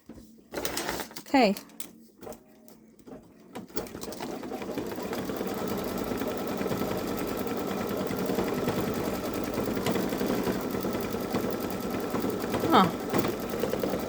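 A Baby Lock Solaris embroidery machine runs a lock stitch, settling into a steady, continuous mechanical hum and rapid needle chatter after a few seconds of brief speech and handling noises.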